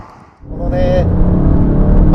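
A 2025 Aston Martin Vantage in manual mode on a winding road accelerates, its engine note rising from quiet into a loud, steady rumble heard from inside the cabin, with a brief higher whine as revs climb.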